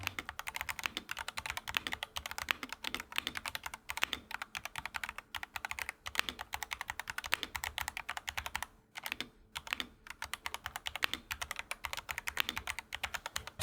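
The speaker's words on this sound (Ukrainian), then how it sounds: "Клавіатура звучить шикарно, і це хороший хід." Fast, continuous clicking of an FL Esports CMK68 mechanical keyboard being typed on, crisp and close, with only brief pauses between bursts of keystrokes.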